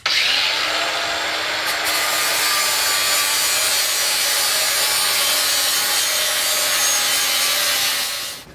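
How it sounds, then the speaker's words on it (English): A power grinder smooths a sharp corner on a seat spring from a 1997 Ram 2500 in one continuous, loud, harsh rasping whine that holds steady for about eight seconds and then cuts off. "I'm gonna grind it smooth."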